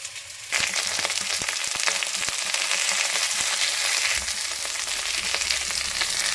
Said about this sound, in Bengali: আগে এটাকে একটু হালকা ফ্রাই করে নেব।